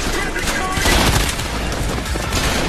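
Rapid gunfire rattles nonstop in the video game Trepang2, a dense burst of shots running through the whole stretch with dull low thumps beneath, loud and close.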